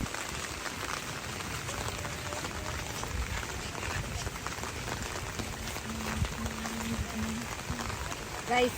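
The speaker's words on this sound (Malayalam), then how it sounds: "മഴയാണ്. മഴ തന്നെയാണ്, വെയിലില്ല." Steady rain falling on a return trip in Lakshadweep, a continuous dense patter with occasional thumps and faint background sounds, heard throughout at moderate level.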